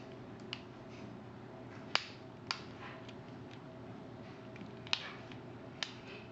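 The plastic case of a Gravity TXT SGH-T379 phone pops apart in a series of about six sharp, close snaps and clicks spread irregularly over several seconds, with two or three standing out louder than the rest.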